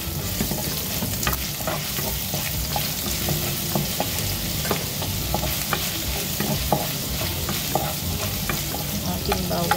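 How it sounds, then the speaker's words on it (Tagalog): Ginger sizzles and fries in hot oil in a pan, stirred throughout, giving a dense, continuous, loud crackle with no talking. "maglagay na po tayo ng mantika sa ating kawali."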